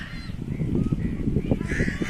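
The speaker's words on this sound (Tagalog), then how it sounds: "Ang daming uwak." A crowd of crows calls over and over, loud harsh caws overlapping close by in a steady busy chorus with no pauses.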